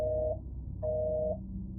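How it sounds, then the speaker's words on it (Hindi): Phone busy tone made of two steady beeps of equal length separated by a short silence, clean and fairly loud, signalling that the number cannot be reached. "तो उसने एलेक्स को तुरंत कॉल किया, बट एलेक्स का फोन इस बार नॉट रीचेबल बता रहा था।"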